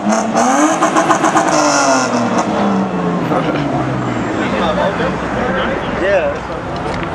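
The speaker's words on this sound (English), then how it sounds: "we got some more people revving over here" Cars at an Orlando car meet, including a Nissan Skyline R34, rev their engines in rising and falling roars, some close and loud, others farther off, with people talking nearby.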